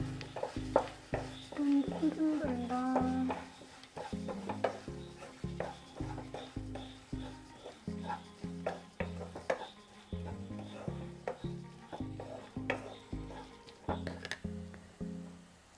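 Prawn biryani masala with coriander powder and meat masala is stirred in a pan, giving a soft, scraping, sizzling churn that repeats steadily under prominent rhythmic background music.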